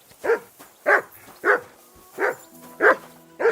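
A dog barks six times at a steady, roughly half-second-apart pace, close and loud, each bark short and distinct with quiet gaps between.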